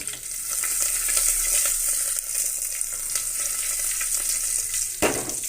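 Mustard seeds, cumin, fenugreek, curry leaves and dried red chillies crackle and sizzle in hot oil for a Telugu buttermilk curry, a steady close hiss with small pops and a louder burst near the end.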